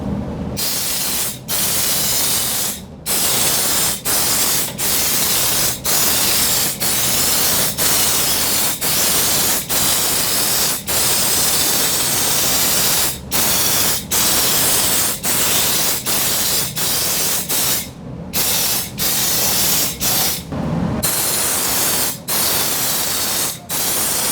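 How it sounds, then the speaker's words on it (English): Undercoating is sprayed onto the lower side of a truck box, a loud continuous hissing spray broken by many short pauses as the trigger is released and squeezed again, close up with no talking. "Now we're going to undercoat the lower side."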